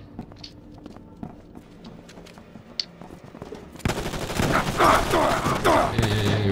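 Gunfire from a video game, quiet and sparse at first, then a dense, loud burst of continuous shooting in the second half.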